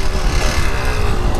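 A motorcycle engine drops from high revs into a low, steady rumble, loud and close, with no other sounds over it.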